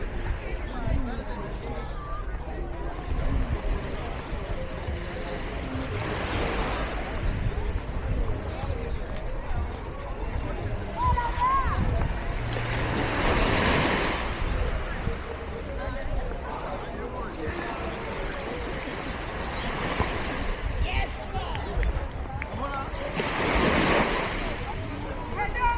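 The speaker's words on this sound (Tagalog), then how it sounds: "Ganda ng dagat." Sea waves roll onto the Seychelles coast, loud and rushing, with several surges swelling and falling over steady wind noise as people talk nearby.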